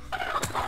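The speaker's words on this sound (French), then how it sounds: "Ça me fait délirer de taper dans les poules." A chicken in the video game Fable The Lost Chapters lets out a brief, sharp squawk as it is struck, one quick cluck-like burst.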